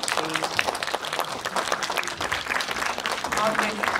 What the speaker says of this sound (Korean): 그럼 이쪽으로 퇴장하시는 동안 큰 박수로 또 보내드릴게요.